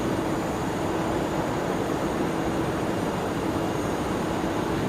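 A jet aircraft operated by Atlas at Anchorage's Ted Stevens International Airport, heard as a steady, loud broadband roar without any talk.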